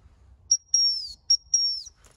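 A traditional gundog whistle command used to train working Labradors and Cocker or Springer spaniel puppies: four clear, close, shrill blasts, short, long, short, then long and slightly falling, with nothing else sounding.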